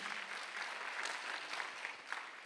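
A church congregation at a Korean Sunday worship service claps together, a soft, distant patter of many hands that holds steady for a couple of seconds with scattered sharper claps.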